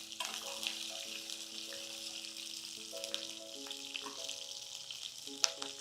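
Large-cut green chillies fry in oil for Kurnool-style uggani, a gentle, continuous sizzle with scattered pops and stirring under background music.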